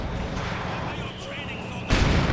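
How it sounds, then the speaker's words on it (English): Artillery and gunfire in a Company of Heroes 2 match: continuous rumbling barrage with mortar rounds, ending in a loud, close explosive burst, with a commentator talking over it. "Mortar rounds flying through the air"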